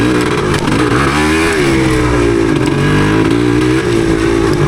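A 1977 Yamaha DT250 two-stroke dirt bike is ridden through rough woods trails, its engine loud and close, the pitch rising and falling as the throttle opens and eases.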